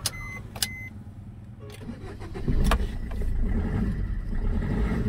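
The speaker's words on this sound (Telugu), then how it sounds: "బండి అయితే స్టార్ట్ అయిపోయిందన్న" Maruti Suzuki Swift Dzire, previously failing to start because of cut wiring under the fuse box, cranks and starts: a few clicks and brief starter noises, then the engine catches and settles into a steady idle.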